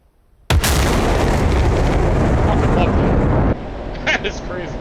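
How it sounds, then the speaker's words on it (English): An F-16C Viper jet in a flight simulator game over the United Arab Emirates makes a sudden, loud sonic boom that becomes a sustained roaring blast for about three seconds, then drops to a quieter rumble. "There's an asshole flying around with an F-16 making sonic booms."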